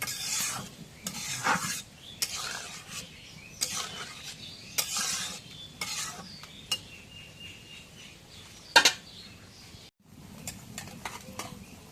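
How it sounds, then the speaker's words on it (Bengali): Sweet pumpkin being stir-fried in a pan for a tilapia curry, a spatula scraping and stirring in repeated short bursts with a soft background sizzle, close and fairly quiet. "এখন মিষ্টি কুমড়োটা কষার আগে একটু দই পানি দিয়ে দিই।"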